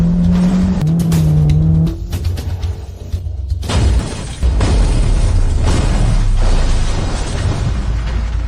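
Cars in a dramatic film scene: loud engine roar and tire noise, a sudden crashing impact with shattering debris, then sustained heavy rumbling and rattling, dense and close with no talk.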